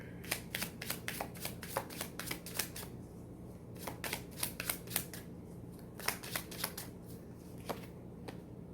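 Oracle cards being shuffled by hand during a tarot reading, a run of quick crisp riffles and snaps in bursts with a short pause in the middle, close and fairly quiet.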